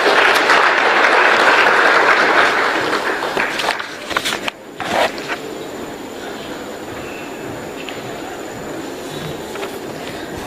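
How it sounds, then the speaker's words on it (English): Audience applause at a formal election-evaluation report launch, a loud dense burst of clapping that thins and fades after about four seconds into quieter room noise. "A better clap for Her Excellency Anne Waiguru"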